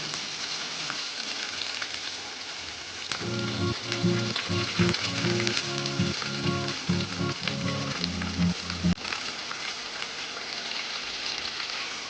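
Onion and curry leaves sizzle steadily in hot oil in a pan, a continuous close frying hiss with a stretch of rhythmic stirring clatter through the middle.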